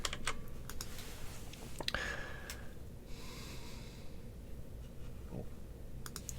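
Computer keyboard keys typed and clicked during a strategy wargame turn, scattered quick taps and clicks over a steady background hiss with some breathing.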